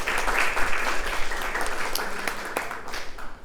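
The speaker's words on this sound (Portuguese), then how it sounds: "Recebo com uma forte salva de palmas ele, Antônio Marcelo Araújo Bezerra." Strong applause from an audience at an academic round-table session, many people clapping in a sustained, dense burst that holds steady and close without pause.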